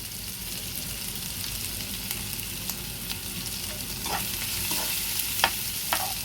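Onions frying in a pan while a spoon stirs them, a steady soft sizzle broken by sharper scraping clicks and taps that grow more frequent toward the end, with no talking.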